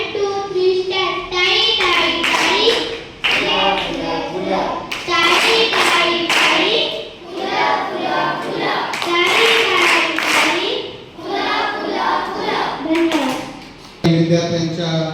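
Students' rhythmic welcome clapping for the chief guests at a music school event runs in steady patterned bursts, loud and close, with children's voices mixed in and brief pauses between phrases.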